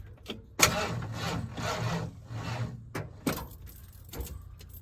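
A bunch of keys jangles up close beside a car that won't start easily, with several bursts of metallic clinking and rattling separated by short pauses, no talking.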